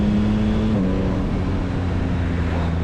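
A 2022 Yamaha MT-09 naked triple motorcycle pulls away under acceleration, engine drone rising and steady with a tonal shift partway through as a quick-shifted gear change drops the pitch, loud and close with no talk.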